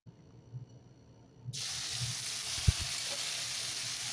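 Drained boiled chalta lands in hot browned spices for a pickle, setting off a sudden loud sizzle midway that holds steady as a bright frying hiss, with a single thump from the pan.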